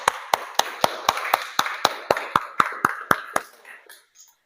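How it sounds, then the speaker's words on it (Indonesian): A classroom of students claps in unison for a classmate's group presentation, about thirteen crisp, evenly spaced claps in a steady rhythm that fades into a few scattered, softer claps at the end. "Beri tepuk tangan dulu yuk untuk Mbak Naila."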